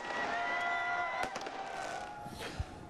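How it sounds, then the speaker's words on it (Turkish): New Year fireworks bursting over rainy Amsterdam amid a crowd of thousands: faint, distant thuds and crackles with a couple of sharper bangs over a low background murmur. "havai fişekler patladı"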